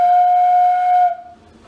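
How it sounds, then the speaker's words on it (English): A homemade PVC whistle gives one loud, steady, clear tone for about a second, then cuts off abruptly, leaving faint room noise. "So let's turn this normal whistle into a sliding whistle."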